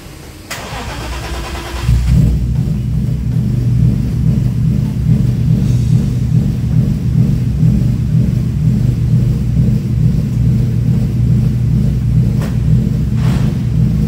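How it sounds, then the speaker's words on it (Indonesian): A BMW E36 race car engine cranks briefly and catches, then settles into a loud, deep, steady rumbling idle with slight fluctuations, close to the microphone. "Kita mau coba jalanin mobilnya"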